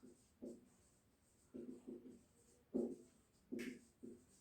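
Chalk or marker strokes written in short bursts on a board during a physics lecture on capacitance, with quiet gaps between the faint scratching strokes and no voices.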